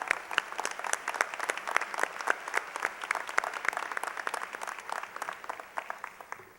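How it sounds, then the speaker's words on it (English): An audience at an annual meeting applauds, a dense patter of clapping hands held at a fairly even level for several seconds before tapering slightly, moderately distant. "Let's give her a round of applause."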